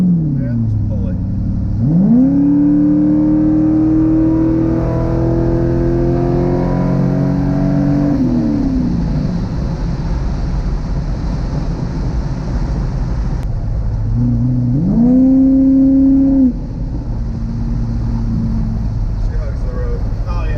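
A C5 Corvette pulls hard on a straight, its engine note climbing steadily through a long rev sweep, then easing off before a second shorter pull, loud inside the cabin with people talking over it.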